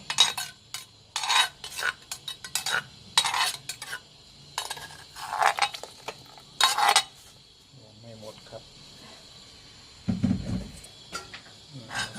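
Clattering and scraping of a heavy stone mortar being rinsed and scrubbed in bursts, with water and kitchen clinks, then a low thump near the end.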